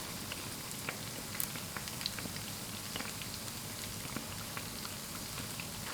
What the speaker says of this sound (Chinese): 炸至另一边微微上色，我们再次给它翻面